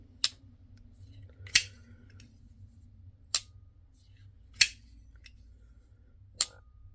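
A HEST/F 4.0 Ti titanium folding knife weighing 4.9 ounces snapping shut five times at uneven intervals, each a crisp, close metallic clank against a quiet background.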